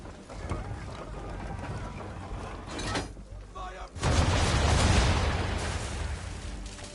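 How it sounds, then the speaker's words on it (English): Ship cannons fire in Assassin's Creed III during a naval battle, a booming blast that swells into a loud roaring rush after a stretch of rumbling water and creaking. "Now, aim all guns at her bow and do as much damage as possible."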